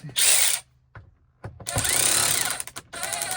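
A power drill tightens screws on a Can-Am Defender accessory mount in close, loud bursts: a short whir, a pause with small clicks, then a longer run and a final burst.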